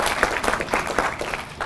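Audience applause at a state housing initiative launch in Nevada: a short burst of dense, steady clapping from a crowd, moderately loud and continuous throughout.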